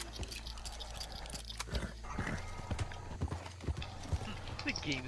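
Horse hooves in the video game Red Dead, irregular clip-clop steps at a moderate distance, faint, with background noise and people talking.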